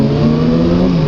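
A Triumph Street Triple 675 three-cylinder motorcycle engine revs loud and close, holding a steady, sustained note with no voices.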